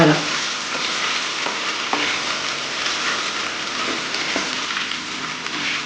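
Pepper powder being stirred into cooked rice for katte pongal, a continuous wet scraping and mixing texture with faint sizzle, fairly loud and close, with a few soft knocks of the spoon and no talking.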